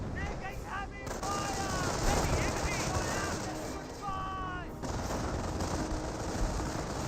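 Machine gun fire in the strategy game Company of Heroes, from a machine gun bunker firing on a rifle squad: dense, continuous rattling bursts and battle noise fill the scene, with a voice talking over it.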